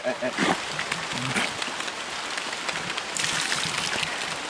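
Rain falls heavily in a French Guiana forest, a constant hiss of drops on leaves and ground that grows a little louder near the end, with people talking over it.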